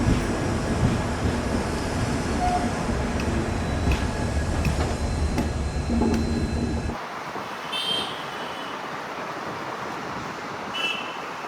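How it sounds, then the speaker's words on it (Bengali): Howrah Puri Shatabdi Express running at about 128 km/h near Khurda Road, a loud steady rumble and rush of wheels and wind that suddenly drops to a quieter, muffled roar partway through, heard continuously without talk. "হাওড়া পুরী শতাব্দী এক্সপ্রেস 128 কিলোমিটার প্রতি ঘন্টায় ছুটে চলেছে।"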